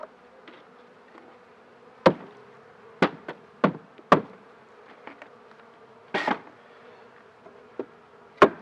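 Honeybees buzzing during a hive inspection, a faint steady hum punctuated by several sharp wooden knocks and taps from frames and hive boxes at irregular intervals, close by.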